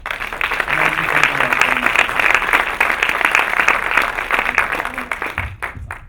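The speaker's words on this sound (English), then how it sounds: "Let's give a nice round of applause." An audience at a film festival Q&A applauds, dense steady clapping from many hands filling the room for about five seconds before thinning out and stopping.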